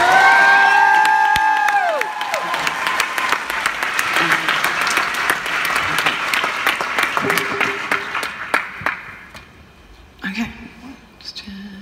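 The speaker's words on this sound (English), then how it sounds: "please give the guys an awesome round of applause" A concert audience at a show applauds and cheers with scattered whoops, the clapping swelling and then thinning out as amplified speech comes over it and trails off at the end.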